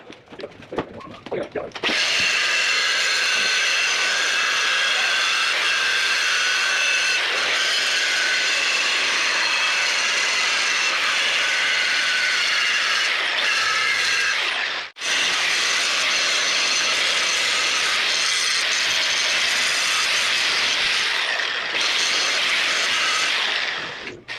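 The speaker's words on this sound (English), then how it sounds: "let's do some welding" Welding a plate onto an excavator thumb, a Werk-Brau progressive link thumb for a Hyundai machine, gives a steady, loud, crackling hiss. It runs almost unbroken for over twenty seconds, with one brief cut midway.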